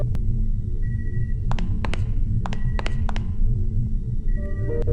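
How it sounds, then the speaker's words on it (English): Short electronic computer beeps and tones from the video game Galerians ring out at irregular intervals over a steady low hum of medical equipment, with no voices. "The game is filled with ambient sounds, computer beeps, the quiet humming of medical equipment."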